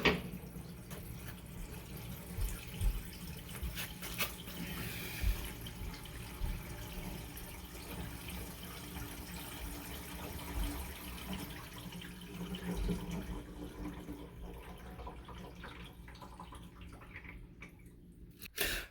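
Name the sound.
water running from the tap, filling the sink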